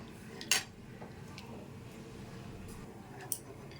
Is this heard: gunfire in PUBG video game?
no